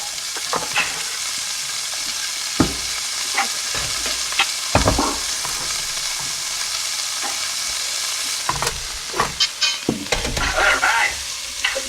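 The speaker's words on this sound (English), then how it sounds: "we already have a pretty hot pan. So we can add a little bit of the mushrooms and onions in here and get them going." Mushrooms and onions fry in a hot pan for beef stew, a steady near sizzle broken by the occasional scrape and clack of a wooden spoon stirring.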